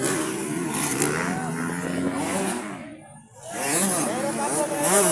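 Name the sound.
motocross motorcycle engine revving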